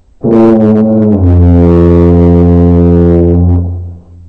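One long, low tuba note blares loud and steady for about three seconds, then fades out.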